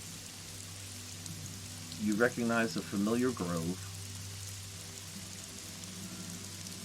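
Rain falls steadily around a forest grove, a soft continuous patter with a faint low hum underneath, while a voice speaks briefly over it in the middle.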